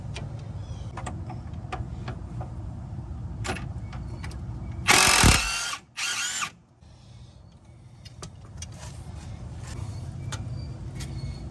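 A ratchet clicks away at a 15 mm sway bar bushing bolt on a Silverado 2500HD truck, with quick ticking strokes and a brief loud burst of mechanical noise partway through.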